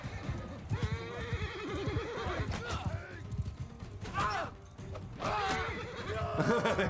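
A horse whinnies in a Bannerlord battle amid clanking weapon and creaking mechanical sounds, with several neighs rising and falling over the noise of the fight and someone talking at times.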